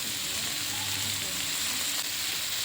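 Chopped potatoes sizzle steadily in a shallow-oil pan for a potato fry, a dense, even crackle with no pauses and no voices.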